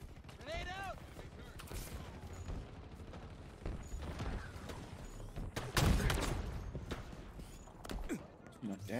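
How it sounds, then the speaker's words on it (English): In the video game Halo, bursts of gunfire crack and rattle amid a noisy firefight, and one heavy low boom suggests a grenade blast near the middle. Voices talk over the action. "Grenade out."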